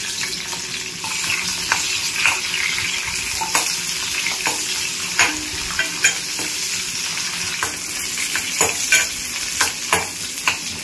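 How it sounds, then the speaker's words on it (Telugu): Garlic, mustard seeds, cumin, chana dal, dried red chillies and onion fry in hot oil as a tempering for Rayalaseema colour rice, a steady loud sizzle with occasional sharp stirring clinks and pops throughout, no voices. "ఆయిల్ కొంచెం హీట్ అయ్యాక 2 వెల్లుల్లి, ఆవాలు, జీలకర్ర, శనగపప్పు, ఎండుమిర్చి, ఇంకా ఎర్రగడ్డ వేసుకొని ఫ్రై చేసుకోవాలి"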